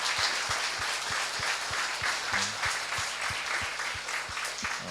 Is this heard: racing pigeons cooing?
no